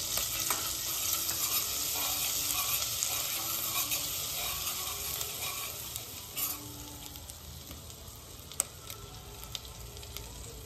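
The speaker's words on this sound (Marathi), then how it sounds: "तेल आणि बटर आपलं एकत्र होऊन आता मेल्ट व्हायला लागलेलं आहे। त्यात आता आपण घालायचे आहे जिरे" Cumin seeds sizzle and crackle in melted oil and butter on a street-food tava, a steady dense fry with faint stirring clicks, close and continuous with no voices.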